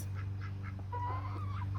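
Several ducks quack softly nearby over a steady low mechanical hum.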